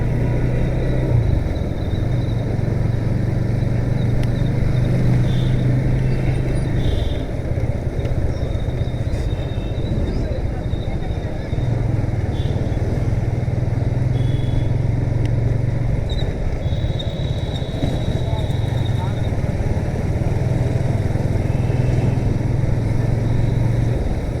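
Car driving along a road and trying to overtake, heard from inside as a steady, loud engine drone and road rumble that swells and eases slightly throughout.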